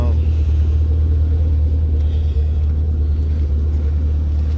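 A Chrysler Crossfire's engine idles steadily at close range just after starting, a low continuous rumble with no revving and no other sound over it.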